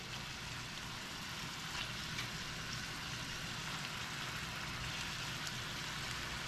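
Ground beef browns in a pan on the stove for a hamburger cornbread casserole, a steady, faint, even sizzle that holds without pause.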